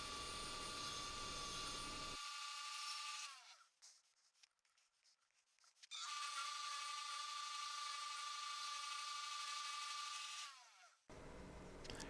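Wood lathe turning a white oak cigar ashtray, with a steady high whine while the cutter works and two quiet gaps where it eases off before the loud tone resumes.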